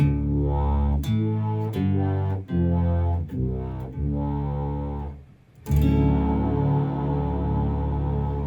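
Guitar run through a BOSS SY-1 synthesizer pedal swept with an expression pedal, with delay and reverb, giving thick buzzy synth notes that shift in tone, a series of sustained phrases with a brief gap, played alone and loud.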